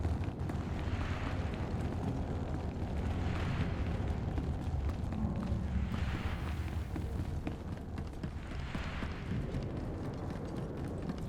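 Rockets exploding in Star Wars: The Old Republic, a continuous heavy rumble of blasts with several swelling booms rising and fading at intervals, dense and loud throughout.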